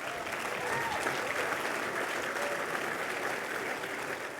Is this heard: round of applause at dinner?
yes